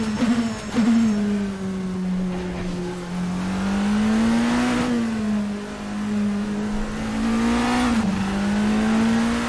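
A loud race car engine in an Assetto Corsa classic endurance mod drones at high revs, its pitch rising and dipping through gear shifts and throttle changes, with no talking.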